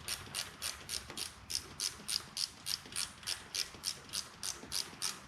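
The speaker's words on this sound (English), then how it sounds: "These are just Craftsman ratchet wrenches" Craftsman ratchet wrench loosening rocker box bolts on a 2004 Harley-Davidson Road King Twin Cam, a steady run of about fifteen quick, even clicking bursts, close and clear with no talk.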